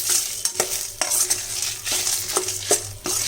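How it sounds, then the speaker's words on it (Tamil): Lentils and spices dry-roasting in a pan for sambar crackle under rhythmic scraping from a spoon stirring them. The strokes repeat roughly every half second, close and fairly loud, with no talk. "பொன்முருவலாக வறுக்கணும் இந்த பருப்பு"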